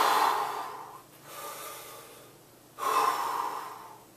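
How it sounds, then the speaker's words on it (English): A person takes deep breaths, three drawn-out airy inhales and exhales in slow succession, close and clear, with no talking. "Take a couple deep breaths and relax"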